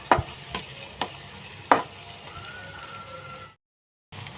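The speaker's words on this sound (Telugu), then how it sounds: "ఒక పెద్ద ఉల్లిపాయని అయితే ఇలా కట్ చేసి వేయిస్తున్నా" One large sliced onion frying in about two ladles of oil for a tomato egg curry: a soft sizzle with several sharp clicks of a spoon on the pan, ending in a brief silence.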